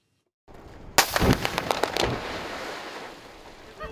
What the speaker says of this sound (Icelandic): Er þetta stærsta sprengja sem þú sprengt?